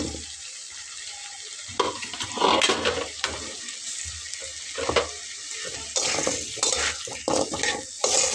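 Potatoes tipped into a hot frying pan for a cauliflower fish curry, sizzling steadily in the oil, with scraping and stirring clatter and a few louder splashy bursts as they are tossed.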